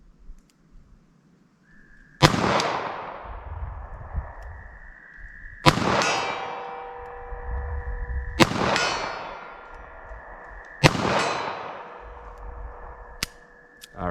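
Steel target struck by .38 Special wadcutter rounds at a shooting range: four loud, evenly spaced metallic clangs, each ringing out for a couple of seconds before the next hit, with no talk.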